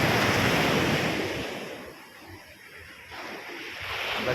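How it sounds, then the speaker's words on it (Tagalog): Sea waves with a strong current at a beach in Zambales, one surge washing in loudly, easing to a softer wash, then building again, with light wind buffeting the microphone. "Lakas ng current ng tubig. Dagat."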